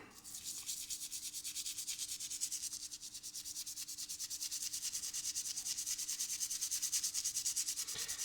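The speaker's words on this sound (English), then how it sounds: "So we're just going to clean off the board a bit." A soldered FM radio circuit board being cleaned off: fast, rhythmic back-and-forth scrubbing strokes, close and even, over a faint steady hum, with no talking.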